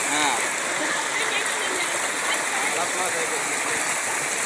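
Steady broadband rush of flowing water, continuous and fairly loud throughout, as the swollen Palar river runs fast nearby at Poigai, Vellore.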